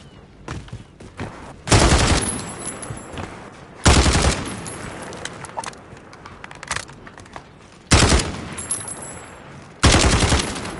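Call of Duty gunshots come as four loud, short automatic bursts spaced a couple of seconds apart, with quieter clatter and movement sounds between them.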